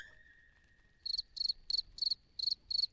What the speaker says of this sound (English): I kind of like the cricket sound though.